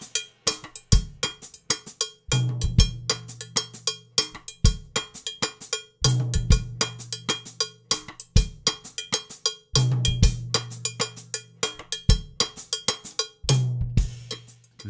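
Cowbell resting on a towel bed on a drum kit, struck in a steady repeating rhythm alongside kick drum hits, dry and close with short muted decay.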